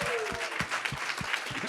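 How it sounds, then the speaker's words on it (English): Short burst of audience applause at a film festival talk, loud clapping with distinct rhythmic claps standing out from the crowd, ending quickly. "Big applause to everyone."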